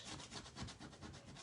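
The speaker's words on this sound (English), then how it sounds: "you're just going to burnish this down onto your surface" A small burnishing tool rubs quickly back and forth over a stencil decor transfer pressed onto a surface, making a faint, rhythmic scratchy scrubbing of about a dozen close strokes.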